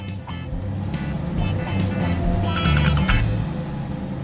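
A large vehicle's engine rumbles and revs steadily as it pulls away, with clanking and rattling on top, fairly close.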